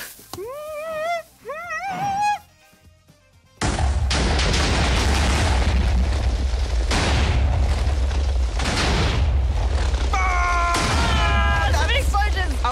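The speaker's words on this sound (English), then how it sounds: "Are you ready for a big boom?" Video game explosions blowing up grass blocks: after a few chirpy, warbling game tones, a loud, sustained rumbling burst of blasts takes over for several seconds before lighter tonal game sounds return.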